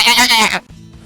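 A human voice imitating a sheep during a tabletop role-playing game session, one loud, wavering bleat up close that breaks off abruptly into quiet.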